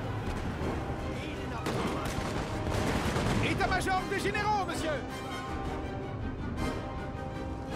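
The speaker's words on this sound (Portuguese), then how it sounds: "Os canhões estão acertando meus cavalos." Rolling cannon artillery and gunfire boom through a Napoleonic battle in the game Napoleon: Total War, a continuous noisy barrage with someone speaking Portuguese over it.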